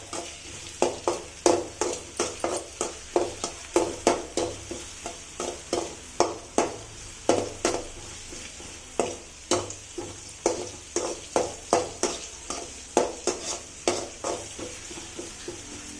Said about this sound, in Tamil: வெங்காயம் போட்டு நல்லா வதக்கிறோம்